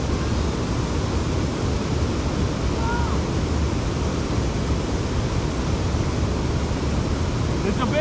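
A waterfall roars as a constant, loud, broadband rush filling the whole stretch, with no break or change in level.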